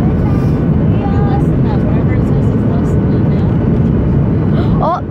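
Fiji Airways airliner landing at Canberra, heard from inside the cabin as a loud constant roar of engine and airflow over the whole stretch, easing off slightly at the end.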